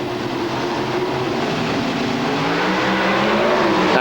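Drag racing cars launch side by side in a semi-final at the 1998 NHRA Atsco Nationals in Phoenix, Arizona, producing a loud, dense, unbroken engine roar that fills the whole stretch without any talking.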